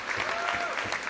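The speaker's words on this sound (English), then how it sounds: "Let's give him a round of applause." Crowd applause and cheering for Jake Cava at a varsity basketball game between Shanley and St. Mary's, a steady dense roar of clapping filling the gym for the whole stretch.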